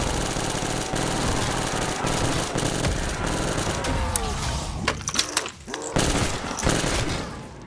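Rapid automatic gunfire in Black Ops 3 Zombies bursts in quick succession, fired from the hip, loud and dense, with sharp cracks and rattling bangs toward the end.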